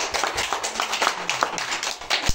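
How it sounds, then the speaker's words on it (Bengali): A group of children clap their hands at a small pre-primary school, a quick run of sharp, uneven claps close by, with faint voices in the background. "বাবা, সবাই হাততালি দেও"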